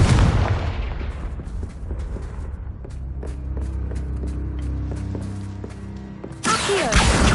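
Confringo blasting spell detonating in a Hogwarts video game, a sharp booming blast that trails into rumbling debris and scattered crackles, then a second burst near the end.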